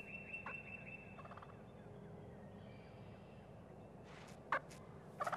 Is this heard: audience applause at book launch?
no